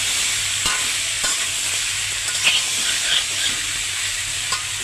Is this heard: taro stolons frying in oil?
yes